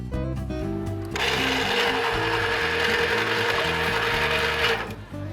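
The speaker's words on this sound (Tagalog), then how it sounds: "Gigiling na rin po natin yung ingredients niyang bawang dito sa may gilingan para mahalo po siya dito sa lamaw" Native garlic ground in a small electric grinder for longganisa, a loud steady motorized whir lasting about four seconds, starting abruptly and cutting off, with soft music underneath.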